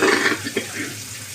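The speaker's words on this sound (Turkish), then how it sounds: "Şimdi sıcak suyumuzu açtık." Hot water runs steadily from a tap fed by a combi boiler, a close, continuous splashing rush filling the whole short moment.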